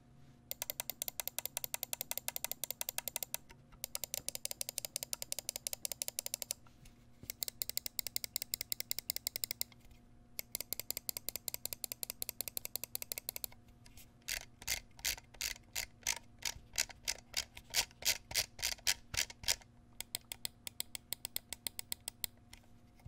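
Button clicks from a Zowie S2 gaming mouse come close and crisp in quick, even runs of sharp taps separated by short pauses, the later runs faster and more uneven, over a faint steady hum.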